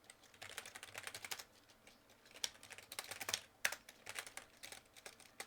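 Command typed on a computer keyboard in a terminal: quick, uneven bursts of soft key clicks with a few sharper taps, close and fairly quiet, no talking.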